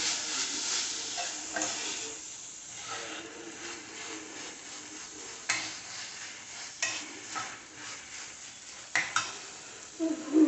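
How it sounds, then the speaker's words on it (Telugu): Moong dal fries in a pan for a cauliflower curry, a steady sizzle broken by repeated scraping stirs and occasional clinks of a utensil against the pan, close and fairly loud throughout. "తర్వాత ఇందులో పెసరపప్పు కూడా యాడ్ చేసుకోవాలి ఒక వన్ మినిట్ ఫ్రై చేసుకోండి ఈ విధంగా"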